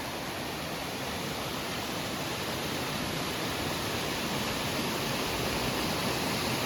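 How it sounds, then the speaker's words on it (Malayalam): A small forest stream spills over a low step, giving a steady, dense rushing of water that holds even and unbroken throughout, close and fairly loud with no voices over it. "ഇവിടെ ചെറിയ കുത്തായിട്ട് ഇങ്ങനെ വെള്ളം ഒഴുകുന്നുണ്ട്."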